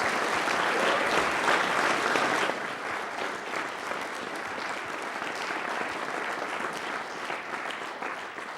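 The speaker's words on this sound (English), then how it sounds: "Let's give this man another round of applause." Sustained audience applause at a cybersecurity event live stream, steady dense clapping throughout, slightly louder in the first couple of seconds then continuing evenly with no talk.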